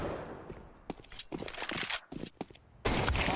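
A scout sniper rifle shot in a Counter-Strike match, one sharp crack standing out amid quieter game noise, footsteps and scattered gunfire, with a loud burst of sound at the end.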